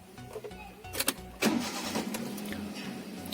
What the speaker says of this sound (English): we will start the car.